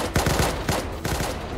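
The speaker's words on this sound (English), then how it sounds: "Oh, they're shooting at us." Burst of gunfire from the video game Unturned, several rapid shots in quick clusters, loud and close, with no talking over it.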